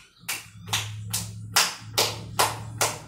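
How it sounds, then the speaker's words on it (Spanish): Seven sharp, evenly spaced claps ring out close by, about one every half second, as children jump and clap in a school PE class. "Ahora vamos a saltar y aplaudir. Saltando y aplaudiendo."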